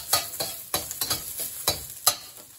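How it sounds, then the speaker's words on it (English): Kung pao chicken is stir-fried in a hot pan: a run of about six quick, rhythmic scraping strokes over a continuous sizzle, close and fairly loud, with no voices. "I'm going to stir it for maybe about 30 seconds or so."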